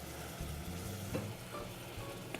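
Caramel cooking in the bottom of a saucepan as cream and butter are added, giving a steady soft sizzle and bubbling with a few faint stirring clinks, continuous and close.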